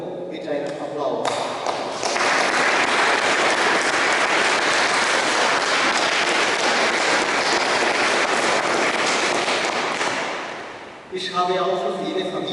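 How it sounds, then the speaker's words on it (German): Congregation applauding during a Sunday church service: steady, full clapping from many people for about nine seconds, fading out, with someone speaking just before and after it. "ich würde euch ganz herzlich loben mit einem Applaus"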